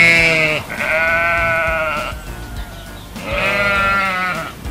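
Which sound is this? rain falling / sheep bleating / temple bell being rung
sheep bleating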